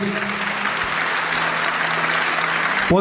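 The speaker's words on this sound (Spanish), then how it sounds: "Denle un aplauso al Señor Jesucristo, hermanos." Church congregation applauding at a Spanish-language service: a dense, steady wash of clapping hands that fills the space evenly for several seconds, with a faint low hum beneath and a brief voice rising at the very end.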